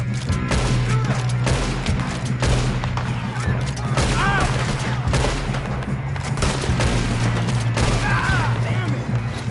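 Gunshots crack repeatedly amid constant dense noise and a low rumble, with shouting voices mixed in throughout.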